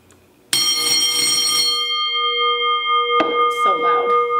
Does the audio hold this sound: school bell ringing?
yes